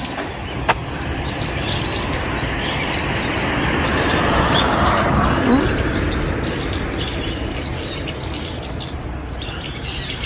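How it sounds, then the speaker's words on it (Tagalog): A chorus of birds chirps and tweets continuously against a dense, steady wash of ambient noise in Japan, with no one speaking. "Nalingaw ko sa mga huni ng ibon"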